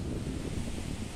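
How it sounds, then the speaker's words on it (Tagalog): Strong storm wind roars continuously in a rural outdoor setting, a dense, rushing buffeting noise close to the microphone with gusty texture and no voices. "lakas ng hangin"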